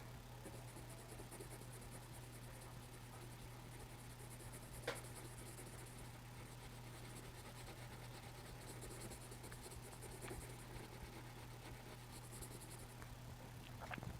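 A pencil colouring on paper during a kids' drawing lesson, a faint continuous soft scratching with slight rhythmic strokes over a low steady hum, quiet and close.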